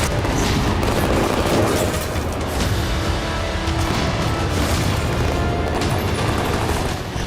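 Heavy gunfire aimed at a car in a five-vehicle convoy in Tehran's high-security zone, a loud dense continuous roar of shots and blasts with no pauses.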